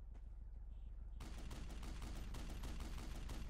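Rapid 50 cal rifle gunfire in a snowy combat video game, a fast continuous burst of loud, closely spaced shots that begins abruptly after a brief stretch of lower rumbling.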